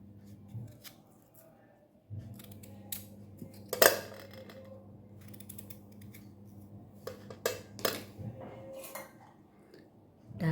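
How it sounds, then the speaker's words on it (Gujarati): A knife cuts two medium potatoes for an aloo dhokli stuffing, giving a few sharp, scattered chopping clicks against a low steady background hum. "સ્ટફિંગ માટે આપણે આવી રીતે 2 બટાકા સમારીને મૂકી દઈશું"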